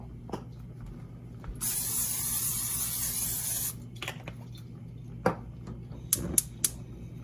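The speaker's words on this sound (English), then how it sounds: "we're going to take our saucepan and we're going to spray it with some nonstick spray" A steady two-second hiss of nonstick cooking spray onto a saucepan, followed by a few light clinks and taps of the pan.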